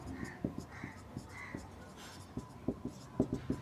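Pen or marker strokes writing out an answer during a Class 9 maths lesson on surface area and volume, a series of short scratchy taps and strokes spaced irregularly, fairly close and quiet, with no talking.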